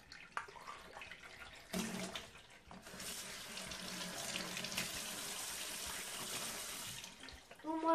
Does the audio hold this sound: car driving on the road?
no